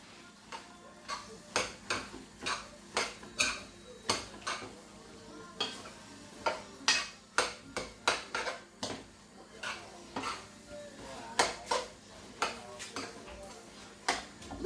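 Spaghetti and prawns stirred in a metal pot, a steady series of sharp utensil clinks and scrapes against the pot roughly every half second, close and fairly loud over faint background noise.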